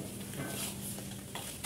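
Pieces of ikan pari, a Malaysian sea fish, sautéing in a pan, a steady soft sizzle with light stirring scrapes and no talk.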